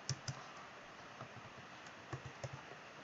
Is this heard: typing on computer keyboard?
yes